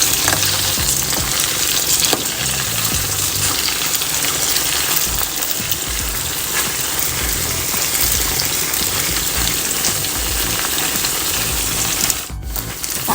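Pork mixture being stirred in a pan of hot frying oil for a Thai dish, a loud, dense, continuous sizzle with scraping stir movements running throughout, close and unbroken.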